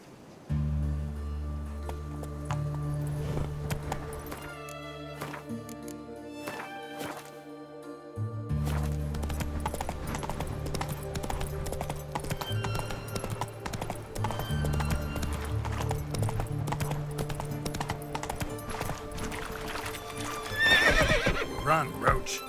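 Roach, the horse in The Witcher 3 next-gen update, gallops with rhythmic hoofbeats and lets out a loud whinny near the end, set against a game music score.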